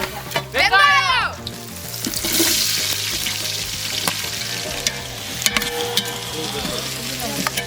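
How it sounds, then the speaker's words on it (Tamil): Onions sauté in oil with fennel, star anise, cardamom, bay leaf, cinnamon and stone flower for a village-style jackfruit biryani, giving a loud, steady frying hiss with stirring clatter and a brief whistling sweep near the start. "வெங்காயம் வதங்கிறது"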